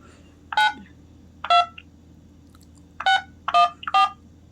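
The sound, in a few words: telephone keypad DTMF tones entering a zip code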